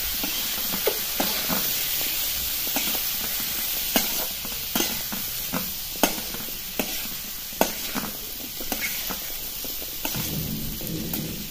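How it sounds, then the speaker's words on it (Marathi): Potatoes get stirred through a spice mix in a pan for a simple potato bhaji, with repeated scraping strokes of a spoon over a continuous soft sizzle. "आणि हा मसाला पूर्ण बटाट्यांना कोट होईल अशा पद्धतीने हलवून घ्यायचे।"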